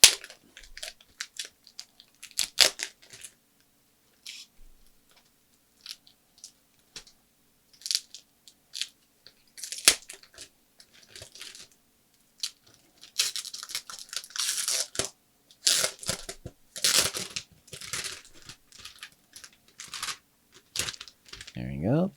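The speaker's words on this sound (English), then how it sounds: "Peel all that off." Protective plastic film being peeled off an XP-Pen Artist 12 Pro drawing tablet, heard as bursts of crackly, tearing rips that grow denser and louder toward the end, with brief pauses between pulls.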